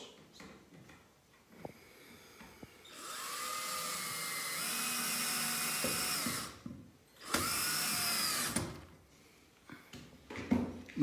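Power drill driving screws into a homemade compost bin: two sustained whining runs of several seconds each, close and fairly loud, separated by a short pause, with quiet handling noises before and after.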